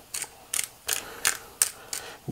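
Hand-held peppercorn medley grinder set to medium coarse, cracking pepper over swordfish: six short, crisp grinding bursts in a steady rhythm, close and fairly quiet, with no talking.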